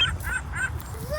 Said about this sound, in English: I hear birds over there.